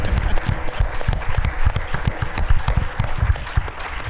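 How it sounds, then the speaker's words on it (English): An audience at a civic discussion event claps for its panel, a loud, dense round of many hands clapping continuously without pause. "give them a big round of applause"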